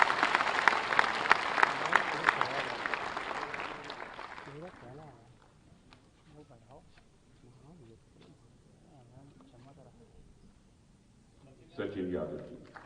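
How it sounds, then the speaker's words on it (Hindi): Audience applause at an official ceremony welcoming selected Uttar Pradesh state service candidates and deputy district magistrates, loud and steady for about four seconds, then fading into quiet room sounds and murmurs, with a short burst of clapping near the end. "तालियों से स्वागत कीजिए"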